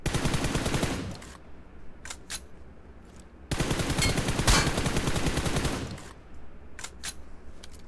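Gunfire in PUBG Mobile: two long, loud bursts of rapid automatic fire, close by, separated by a pause of scattered single shots.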